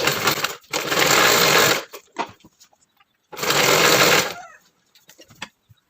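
Electric sewing machine stitching the opening of a churidar, two loud sustained runs of rapid needle chatter, each well over a second, separated by quieter fabric handling and small clicks.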